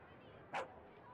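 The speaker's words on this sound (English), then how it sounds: "Get your scary stray dog away from us." A stray dog in the video game Rakuen gives a single short, sharp bark, moderately loud over a faint background hum.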